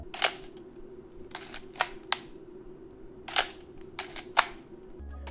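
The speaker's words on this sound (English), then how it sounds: "you advance it yourself with the advance lever" A film SLR camera's advance lever winding the film strip, heard as a series of short sharp ratcheting clicks in bursts, fairly close and alone in a quiet room.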